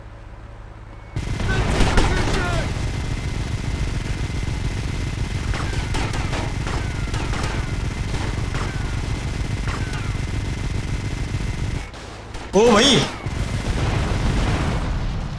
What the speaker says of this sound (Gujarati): પહેલાં હું આ ખટારો ઉડાડીશ